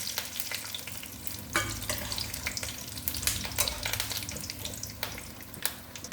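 Dried red chillies and curry leaves sizzling in hot oil for a tempering, a steady crackling fry with sharper pops and spits, close and fairly quiet, with no talking.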